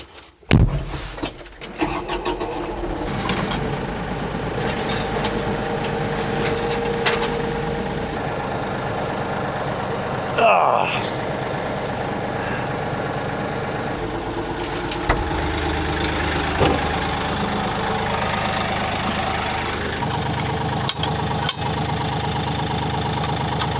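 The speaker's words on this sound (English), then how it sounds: "let's turn the tractor back on." A medium tractor engine idles steadily for the whole stretch, a continuous low rumble with a few clunks and knocks on top, no talking.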